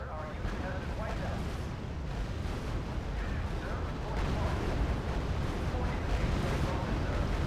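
Tank battle in the strategy game RUSE, a dense, continuous rumble of overlapping explosions and artillery fire at moderate level, with heavier bursts building in the second half.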